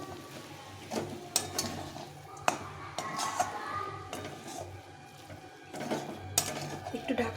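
A spoon stirs banana flower curry (mocha ghonto) with ghee and garam masala in a pan, making irregular scraping and clinking against the metal. Sharp knocks come through, and a faint background hum runs throughout.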